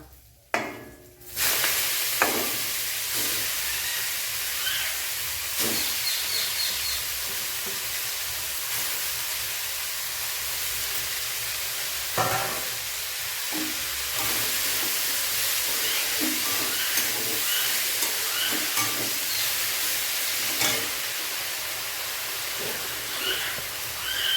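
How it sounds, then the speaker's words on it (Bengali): Fenugreek greens and chilli sizzle and spit in hot oil in a home kitchen: a dense, steady frying hiss with scattered crackles and pops running throughout, alone, with no voices. "ওই তেলের ভিতরে মেথির শাক দিয়ে দেবো।"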